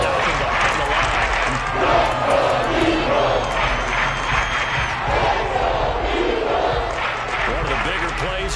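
A Madden 23 stadium crowd roars continuously, a dense, loud wall of cheering and shouting that holds steady throughout, with no break or fade.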